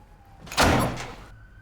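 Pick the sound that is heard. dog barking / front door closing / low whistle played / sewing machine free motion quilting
front door closing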